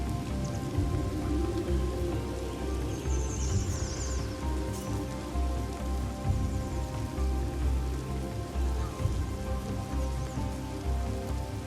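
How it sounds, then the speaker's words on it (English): Steady rain falls in the survival game Colonize, a dense, continuous patter on surfaces that stays even and fairly close throughout, with no voices over it. "Glad the rain is done."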